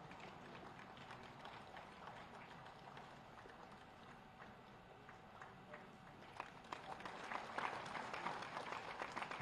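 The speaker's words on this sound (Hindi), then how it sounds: "आपकी तालियों से ही इन सब के चेहरे पर मुस्कुराहट आती है और तस्वीर अच्छी बन जाती है।" Audience applause at a Teachers' Day state teacher award ceremony honouring 94 selected teachers: steady, faint clapping from a crowd that continues throughout and swells slightly toward the end.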